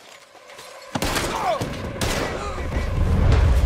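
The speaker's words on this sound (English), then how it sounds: "We're shooting our way out of here, fellas." Gunfire from the video game Red Dead Redemption 2: a sudden burst of shots after a quiet start, then further sharp reports and echoing blasts over rising background noise.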